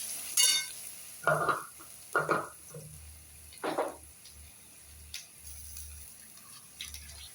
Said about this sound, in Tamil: இப்போ நல்லா தக்காளி நல்லா வதங்கும்